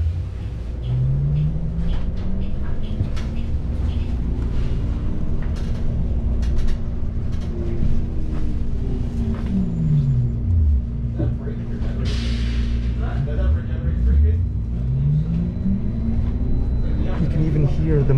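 Electric Brampton Transit bus motor while riding aboard, low rumbling road noise with a whining motor tone that rises and falls as the bus speeds up and slows, under passenger voices.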